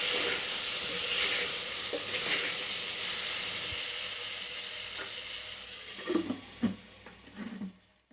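A pan of frying mixture sizzles and hisses steadily while turmeric is stirred in, with a few scraping knocks of the spoon against the pan toward the end.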